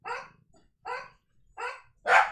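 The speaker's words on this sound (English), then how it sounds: "The dogs will bark for a few minutes here." Dogs barking at home: four loud, sharp barks spaced roughly evenly, each standing alone with quiet gaps between, the last one the strongest and harshest.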